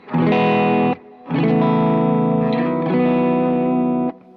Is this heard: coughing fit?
no